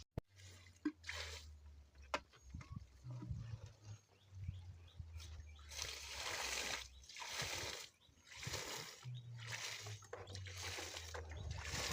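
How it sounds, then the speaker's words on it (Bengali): Water from a bucket is poured over a tomato seedbed, splashing in long bursts with short gaps, close by, with low hum and faint background sounds underneath. "দেখাচ্ছি জল দেওয়াটা।"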